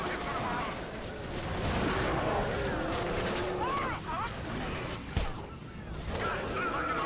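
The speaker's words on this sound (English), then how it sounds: "use this pulse cannon against the really big waves of Chimera that come down" Weapon fire and explosions from the Resistance 2 pulse cannon, used against big waves of Chimera in San Francisco, crack out over a dense, steady wash of battle noise, with one sharp blast standing out near the end.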